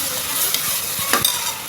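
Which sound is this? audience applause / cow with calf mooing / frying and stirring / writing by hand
frying and stirring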